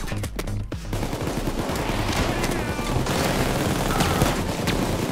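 Heavy gunfire in the video game PayDay 2 during a chaotic heist shootout, with rapid automatic bursts rattling steadily and loudly throughout, with no talking.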